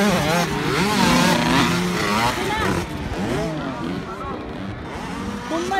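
Several 65cc motocross motorcycles race at an invitational motocross event, their engines buzzing and revving continuously throughout, loud and close, with a crowd and an announcer talking over the engine noise.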